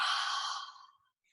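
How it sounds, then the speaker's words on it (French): A long, soft breath exhaled through the mouth during a yoga session, a single airy sigh that fades out after about a second, close and alone. "Prenez le temps quand même de 2 longues respirations. On expirera par la bouche."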